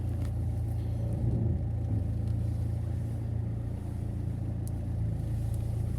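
Mercedes car moving off after its handbrake is released, a low steady engine rumble heard close from inside the cabin, with a slight swell as it pulls away.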